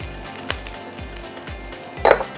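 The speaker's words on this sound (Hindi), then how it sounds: "अब इसको आप अच्छी तरह सौटे करेंगे" Coarsely chopped garlic and green chillies sauté in a hot pan, with a steady sizzle, a few soft stirring scrapes and a louder clink of utensil on pan near the end.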